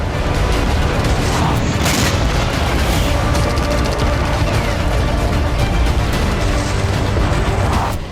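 Explosions in Bakhmut during fighting: continuous heavy rumbling booms and blasts, several sharp impacts standing out over dense, roaring noise, loud throughout.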